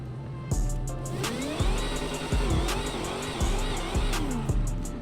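A Dodge Charger Demon's engine in the GTA V video game revs and drones through repeated gear shifts, each climb in pitch cut by a sharp shift before building again, loud and close with no talk.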